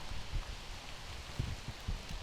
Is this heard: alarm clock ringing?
no